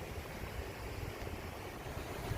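The Cedar River at Charles City flowing past on an overcast day, a steady, even wash of moving water heard alone at a modest level without any speech.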